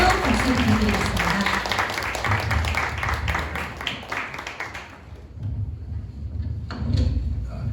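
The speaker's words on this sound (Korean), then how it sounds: "여러분 뜨거운 박수 부탁드리겠습니다." Staff at a company New Year kickoff meeting clap warmly for about five seconds, then the applause cuts off and a few thuds and low room sounds follow.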